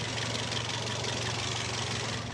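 A Toyota Vios sedan engine idles smoothly and quietly, a steady low hum with a soft continuous hiss and no roughness or knocking, heard up close with nothing else over it.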